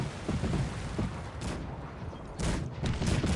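Howitzer artillery fire in the video game Cossacks 3, a ragged series of booms and crackling volleys at moderate loudness, with a couple of heavier bursts spaced across a few seconds.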